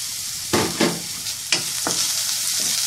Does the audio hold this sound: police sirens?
no